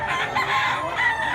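A rooster, a green-legged fighting cock, crows once nearby in a short, raspy, rising call with a steady murmur of background noise beneath it.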